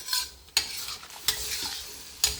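Pork and chicken adobo sizzles and crackles in a pan just after wine goes in, with a steady frying hiss broken by three sharp stirring scrapes; no voices.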